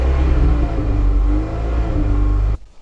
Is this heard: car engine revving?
yes